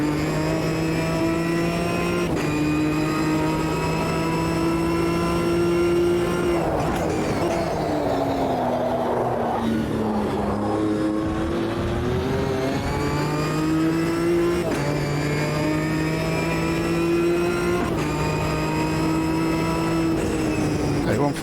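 GT4 race car engine in Assetto Corsa Competizione, a loud, continuous in-car drone that climbs through the revs, drops sharply on each upshift, then sags and recovers under braking and acceleration in steady laps, with talk over it at times.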